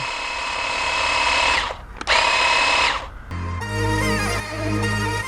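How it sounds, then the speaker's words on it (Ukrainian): Cordless Revolt hedge trimmer running, a high whining motor buzz that cuts out briefly and restarts, then shifts to a lower, rougher pitch near the end, with no talking. "приєднав акумуляторну батарею і попробуємо, як він працює"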